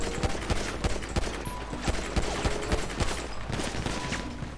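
Sustained machine gun fire in GTA V on a FiveM server rattles in rapid, dense bursts, loud and close, with overlapping shots forming a steady fusillade and no voices.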